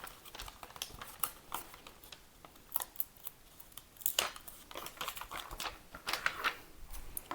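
Scissors cut through a paper skirt pattern in quick, close snips, a steady run of sharp crisp clicks and rustles with no voices.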